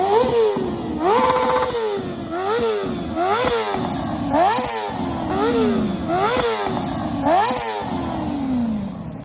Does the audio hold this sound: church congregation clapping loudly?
no